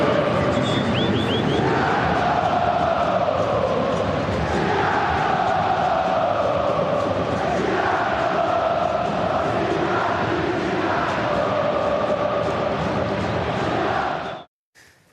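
Botafogo supporters chanting and shouting in the Maracanã stadium during a 0-0 match against home side Flamengo, a dense, steady crowd roar with rhythmic swells lasting throughout before cutting off abruptly.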